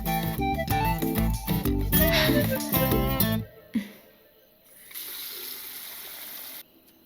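Liquid is poured in a movie scene: after loud music cuts off, a steady, moderate gush of pouring runs for a second or two in an otherwise quiet room.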